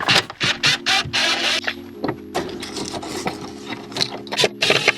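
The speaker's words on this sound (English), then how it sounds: "we're gonna need the drill, because we had to assemble this weird" A power drill backs screws out of a mounted Milwaukee Packout assembly, with repeated loud whirring bursts, short and close, separated by brief pauses and light clatter.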